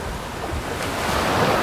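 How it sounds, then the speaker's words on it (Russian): Waves of the Adriatic Sea wash continuously onto a beach beside a long seafront promenade near a port, a broad steady surf roar mixed with wind buffeting the microphone, with no voices. "это уже у нас Адриатическое море"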